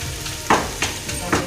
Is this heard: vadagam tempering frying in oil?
yes